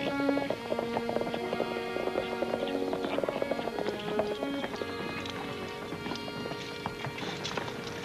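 A horse's hooves clip-clop in a steady, brisk rhythm on an outdoor trail in an old Western series, the clopping close and continuous throughout, layered over a sustained tonal background bed.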